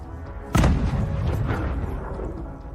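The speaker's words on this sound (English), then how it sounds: "erupting with massive secondary explosions." A Russian ammunition depot struck in a Ukrainian drone attack erupts in a massive secondary explosion, a single loud boom that rolls into a long rumbling, crackling tail.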